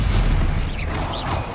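Bombarda spell blast in the Hogwarts Legacy game: a heavy, rumbling burst with a dull boom that carries through the whole moment, with a couple of faint whooshing sweeps near the end.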